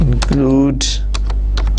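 Someone speaks briefly, then a short run of quick, close keystrokes clicks on a computer keyboard.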